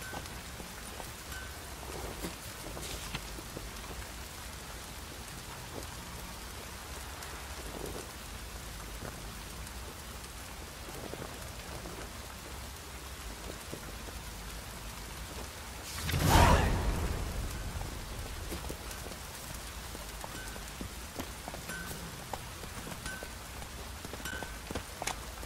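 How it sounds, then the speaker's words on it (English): Heavy rain pours down in The Witcher 3 on Xbox One, a constant hissing downpour with scattered drops, broken midway by a loud crack of thunder that swells and fades back into the rain. "proper downpour this is."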